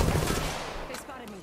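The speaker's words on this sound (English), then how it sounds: "They spotted me. I'm taking shots." Gunfire in the Apex Legends video game, a loud close burst of rapid shots that trails off, followed by a couple of fainter cracks.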